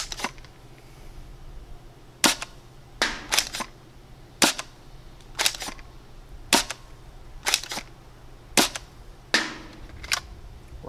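A Worker foam dart blaster fires light darts in a steady series of about a dozen sharp, punchy shots, each one loud and close with short gaps between them. A low hum runs underneath.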